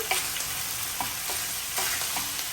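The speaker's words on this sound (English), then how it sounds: "Just keep stirring." Pork and pepper stir-frying in a pan, a steady broadband sizzle with a few light scrapes and clinks of stirring, fairly close and continuous with no talking.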